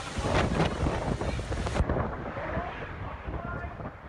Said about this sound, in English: Just listen to the winds tonight.